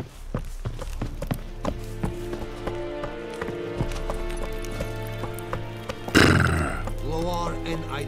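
Hooves of Roach, the horse in The Witcher 3: Wild Hunt, clip-clop in a steady rhythm under game music, with a loud burst of noise and a snort or whinny near the six-second mark.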